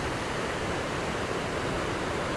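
Water of the swollen Unnichai reservoir surges against its sides in a continuous, dense roar of rushing water, steady and fairly loud with no talk.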